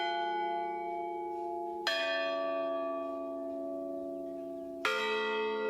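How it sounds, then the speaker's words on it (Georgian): Mourning bells ring out from a church. Two heavy, resonant strikes come a few seconds apart, and each one leaves a long humming tone that slowly fades. "ყველა მოქმედ ეკლესიაში ერთდროულად ჩამოკრეს გლოვის ზარები"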